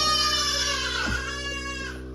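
A stubborn baby goat lets out a single wavering bleat partway through, close and fairly clear over a faint steady background hum.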